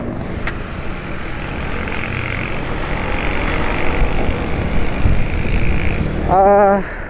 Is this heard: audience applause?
no